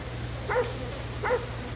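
Two short, faint barks from a dog heard through a hidden speaker in a video game, spaced about 0.75 s apart over a steady low hum.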